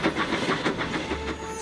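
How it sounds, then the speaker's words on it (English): Steam tank engine puffing along a branch line, a quick rhythmic chuffing with a faint whistle-like tone toward the end, heard alone and fairly close. "Thomas the tank engine's blue paint sparkled in the sunshine as he puffed happily along his branch"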